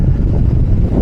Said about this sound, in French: C'est quoi ce vent?